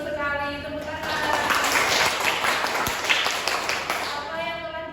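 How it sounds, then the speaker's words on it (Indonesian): A classroom group claps together for about five seconds, a dense, steady patter of hands at moderate loudness with voices chattering underneath throughout. "Tepuk tangan."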